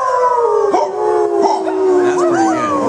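A crowd of people howls together in imitation of dogs during a sing-along, with overlapping wavering voices sliding up and down, loud and continuous, with a few sharper yips breaking through.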